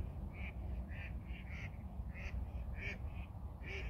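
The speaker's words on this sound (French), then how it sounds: "les canards foutent le bordel" Ducks quack again and again in quick, overlapping calls, moderately distant, over a steady rumbling background, beside a carp-fishing spot in autumn.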